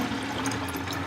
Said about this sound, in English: First, you have to fill the bottle of water with water